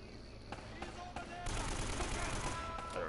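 Rapid bursts of gunfire fill a hallway in Uncharted: Drake's Fortune, with sharp shots over a dense, steady roar of game noise and no pause in the firing.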